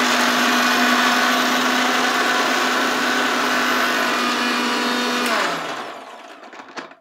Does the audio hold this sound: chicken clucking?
no